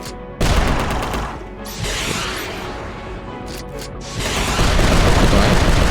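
Heavy booming blasts and crashing impacts erupt as grenades hit a robot tank in the UnMetal video game, dense loud explosions with mechanical clatter rolling continuously.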